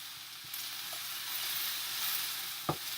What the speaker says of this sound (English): I'm just going to give this another quick little stir.